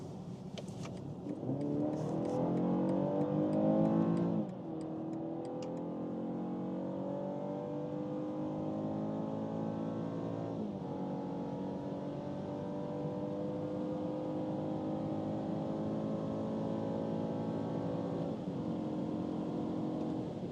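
An Audi A5 or BMW 4 Series Gran Coupe with a 245-horsepower engine accelerating hard in sport mode from 50 to 180 km/h, heard from inside as a loud engine roar rising in pitch through gear changes.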